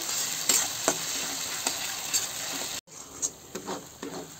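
Masala paste frying in a pan for masala baingan, a bright close sizzle with regular stirring scrapes, briefly cutting out before resuming with more stirring.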